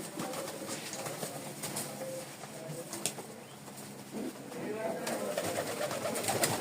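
Pigeons of local fancy breeds, kept in a loft or pen, coo softly now and then, with occasional wing flaps and faint background voices.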